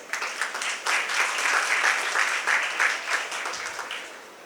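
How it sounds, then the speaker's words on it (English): Audience applause at an awards ceremony, a dense, sustained burst of many hands clapping at once that swells and then tapers off, steady and fairly loud, with no voices over it. "Please give a big round of applause to all these students and mentors."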